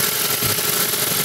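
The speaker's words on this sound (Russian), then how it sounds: "Не, вы садитесь, заведите двигатель, послушайте" A Kia car's engine idles steadily after starting, a continuous, even mid-range hum with a low rumble running throughout at close range.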